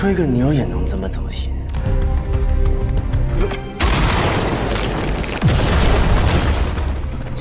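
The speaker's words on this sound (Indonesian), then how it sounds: "Setelah meledakkan dinding altar menggunakan dinamit" Dynamite blasts through an altar wall in a film scene, bursting midway into a loud, sustained, rumbling roar of debris, heard under a narrator's voice.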